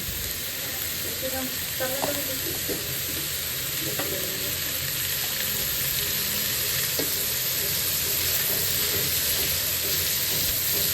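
Capsicum and half-boiled vegetables sizzle and crackle as they are stir-fried in a hot pan, a constant loud hiss with occasional spatula clinks against the pan.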